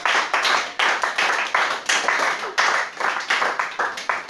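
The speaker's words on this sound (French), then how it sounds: "On acclame le Seigneur Jésus-Christ." A church congregation claps together in a steady, rhythmic beat at a French-language worship service, loud and close, with about a dozen sharp pulses and no talk over them.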